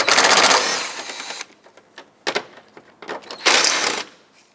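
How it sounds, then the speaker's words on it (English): Ratchet loosening 10mm bolts on the air intake of a Mazda 6, rapid clicking bursts close to the listener with short gaps and lighter scattered clicks between them, and no talking. "Let's remove the two 10mm bolts that hold on the air intake here."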